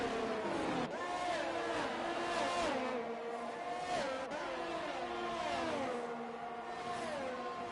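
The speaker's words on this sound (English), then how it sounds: "Now Tash, with his Ferrari engine, wants to take away from the sister team." F1 car engines in a racing video game, a Ferrari-powered car among them, whine continuously at high revs, pitch climbing and dropping through gear shifts, with a race commentator talking over the top.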